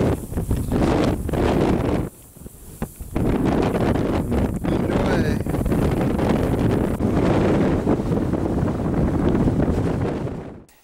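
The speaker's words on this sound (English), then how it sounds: "Woo, that sand is blowing." Strong wind roars across a beach on the Outer Banks, a loud continuous buffeting rush with a brief lull partway through, dying away at the end.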